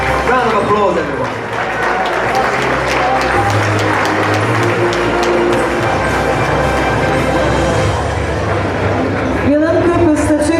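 Applause at an awards gala dinner as a fashion designer is honoured, a loud crowd clapping continuously while a voice and tonal sounds carry over the top.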